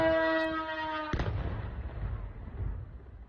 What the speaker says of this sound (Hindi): देखिए कैसे धमाका होता है, आग का गोला उठता नजर आया